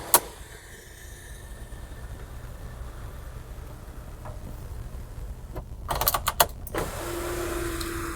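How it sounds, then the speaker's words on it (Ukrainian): An electric sunroof on a 2013 VW Jetta SE 2.5 automatic runs with a steady motor whir inside the cabin, followed by several sharp mechanical clicks and thumps as the panel moves, then a continuing hum as it keeps going. "Є ще люк. Зараз спробуємо перевірити, як він працює."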